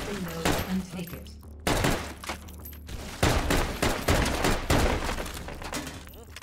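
Rapid bursts of submachine-gun fire in the VR shooter H3VR, loud repeated volleys with short pauses between them and sharp impacts mixed in.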